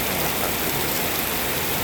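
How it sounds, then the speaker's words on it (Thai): Heavy rain pours steadily in Kaeng Khoi district, a dense, even hiss of downpour filling the whole clip with no pauses or other sounds. "ผมฝนตกแรงมากนะครับที่อำเภอแก่งคอยนะครับผม"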